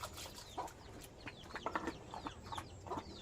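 Several chickens clucking and chattering at once in a busy, uneven jumble, moderately close, with no talking.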